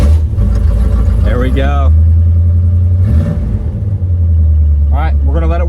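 A Chevrolet Corvette engine holds a steady low idle with a couple of brief revs rising and falling, loud and close, while a person speaks briefly.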